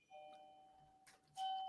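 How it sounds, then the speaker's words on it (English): A home doorbell sounds twice, a clear ringing tone held and then struck again louder, alone in a quiet room. "who is ringing my doorbell?"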